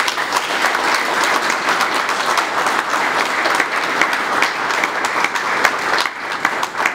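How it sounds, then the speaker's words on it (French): A large audience at a health ministry agreement signing in Kinshasa breaks into sustained applause, a dense, loud and steady wash of many hands clapping together that continues throughout. "Je vous demande d'applaudir."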